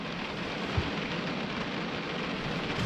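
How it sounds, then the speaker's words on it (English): Heavy rain pours down steadily, a dense, continuous hiss of drops drumming on surfaces nearby, with no talking over it. "Yo, it's pouring down, fucking raining."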